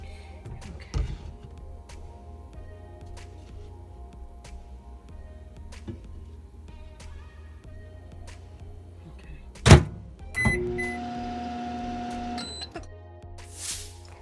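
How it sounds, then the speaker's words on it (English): A door clunks shut, then a microwave oven hums steadily for a couple of seconds before stopping while warming milk, amid scattered quiet kitchen clicks. "we're gonna have to warm the milk up for about a minute in the microwave"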